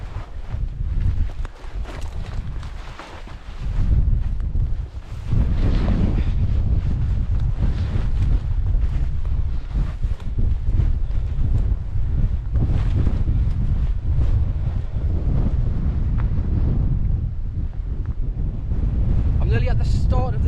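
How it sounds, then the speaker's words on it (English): Strong gale blowing on a steep hillside during a cold climb, a continuous heavy roar buffeting the microphone with gusty surges throughout, loud and close. "it's blowing an absolute gale down here and it's freezing cold"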